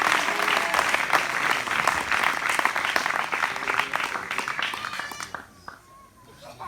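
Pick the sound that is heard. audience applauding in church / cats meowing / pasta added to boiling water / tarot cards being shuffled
audience applauding in church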